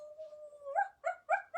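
A human voice imitates a dog, starting with a drawn-out howl that slides upward, then breaking into three short, yipping barks in quick succession, close and fairly quiet.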